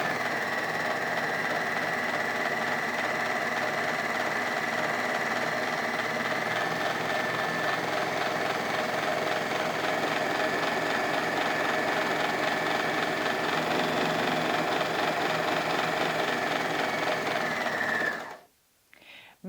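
A Bernina sewing machine roll hems the edge of a fabric scarf, running in a long, steady, close mechanical whir that stops abruptly near the end.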